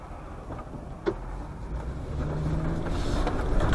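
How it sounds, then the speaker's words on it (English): Seen from a dash cam on a backcountry road at night, a car approaches, a low rumble and rising road noise that grows louder toward the end, with no talk. "Got a car coming."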